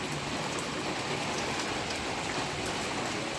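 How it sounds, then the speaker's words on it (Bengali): Heavy rain pours steadily onto a rooftop during a storm, a dense continuous hiss of drops at close range that stays even throughout with no voices. "কীরকম বৃষ্টি নেমেছে।"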